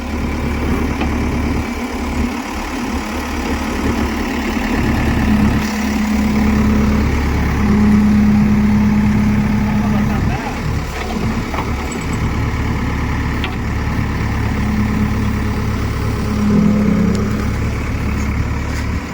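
A JCB backhoe loader's diesel engine idles steadily and loudly outdoors, a constant low rumble with a faint intermittent whine rising and falling over about twenty seconds.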